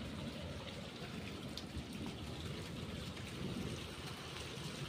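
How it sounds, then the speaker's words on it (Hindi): Steady, faint summer rain falls continuously in a village with a soft hiss and patter, unbroken by voices or other sounds. "बारिश रुक रही है, रुकनी नहीं चाहिए"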